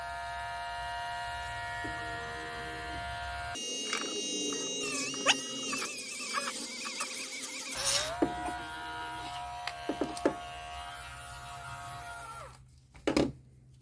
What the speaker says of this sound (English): So we take again our Dremel as a cutting device.